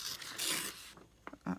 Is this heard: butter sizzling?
no